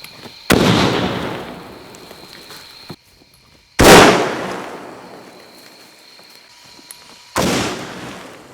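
A crimped pipe bomb detonates as three sharp, loud blasts spaced a few seconds apart, each a sudden crack that trails off into a fading rumble, with quiet gaps between.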